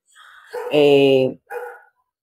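A dog at a house gives one drawn-out bark followed by a shorter second yap, close and fairly loud, with no other sounds around it.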